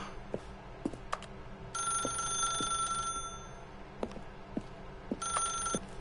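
An old-style telephone bell rings in a video game, two long trilling rings separated by a pause, over faint ticking clicks and a low background hum.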